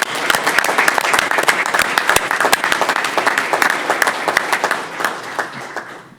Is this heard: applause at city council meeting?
yes